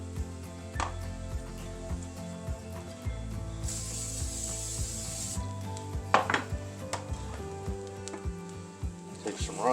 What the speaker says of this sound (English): I'm gonna spray it with some olive oil.